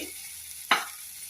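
Vegetables sautéing in a pan with spices and salt: a low steady sizzle broken by one sharp spatula scrape, close and without talking.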